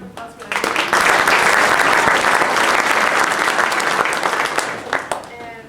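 An audience at a theatre performance of Hello, Dolly! breaks into loud, sustained applause for the props crew, swelling quickly and holding steady before tapering off with a few scattered claps.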